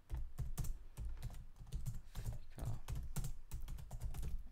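Fast typing on a computer keyboard while coding CSS, with a steady run of close, crisp key clicks and thumps that continues throughout with no talk.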